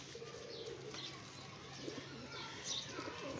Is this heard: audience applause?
no